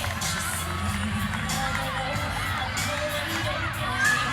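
A crowd cheers and shouts steadily at a college gymnastics meet with SEMO, Ball State and George Washington at Kentucky, a continuous, moderately distant roar of fans with brief whoops rising above it.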